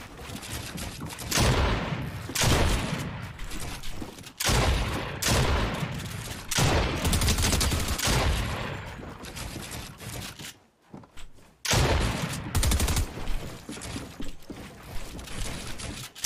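Rapid bursts of video game gunfire crackle in repeated volleys, loud and close, with brief pauses between clusters of shots.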